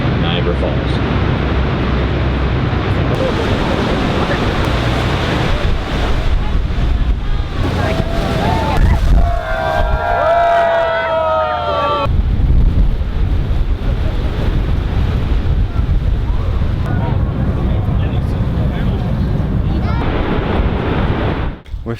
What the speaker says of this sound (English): Witness the awesome natural beauty and power of Niagara Falls.